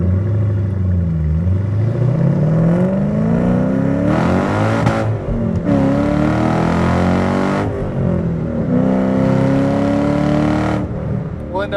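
A supercharged 2005 Ford Saleen with a 4.6 engine revs up hard under throttle, loud and close, its pitch climbing through repeated gear pulls with brief dips between shifts, a steady roar throughout.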